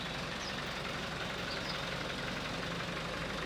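A tractor idles on a farm, used with a slurry agitator, producing a dense, steady engine roar with broad noisy hiss and no breaks, loud and close with no voices.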